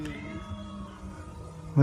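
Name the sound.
cat yowling outside in the woods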